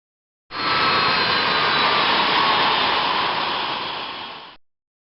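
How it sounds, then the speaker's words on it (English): Boeing 777 jet engines taxiing to the gate after landing, a loud steady broadband roar that holds evenly for about four seconds and then tapers off, with no voices. "The airplane just landed and is taxiing to the gate."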